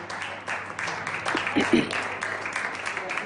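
A government team applauds as Pedro Sánchez enters, with a fairly close patter of clapping from a modest group that swells partway through, accompanied by voices.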